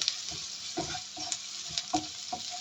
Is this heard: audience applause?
no